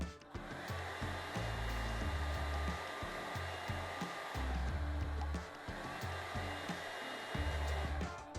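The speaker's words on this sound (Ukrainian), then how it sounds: "В якості навантаження у нас буде фен." A hair dryer runs steadily at close range, a constant whirring roar that steps slightly in pitch and level a few times.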